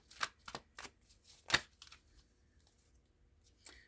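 Tarot cards being shuffled by hand, a few quick papery riffles and slaps spaced irregularly with quiet gaps between them, close and soft.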